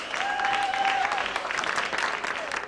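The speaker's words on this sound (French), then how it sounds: "On applaudit bien fort." A crowd claps loudly as a small band is welcomed onto a stage, continuous applause with a short whistle rising over it early on and again near the end.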